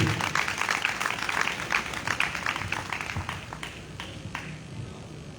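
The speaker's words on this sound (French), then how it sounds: "Applaudis le Seigneur Jésus, s'il te plaît." A church congregation claps together in praise of Jesus, a sustained patter of many hands that gradually softens toward the end, with a faint voice beneath.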